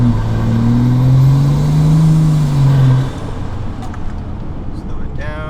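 A car accelerates to about 50 mph ahead of a brake test, its engine rising loudly for three seconds before easing off into a quieter road rumble, with a voice talking over it.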